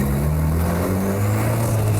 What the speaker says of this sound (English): Martin presses on the gas pedal to check the boost pressure.